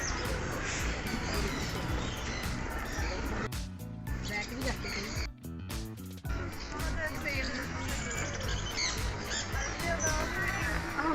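Squawks and honking calls of parrots and other birds fill an outdoor bird park near a lake, loud and continuous with a short lull in the middle, while people talk over the din.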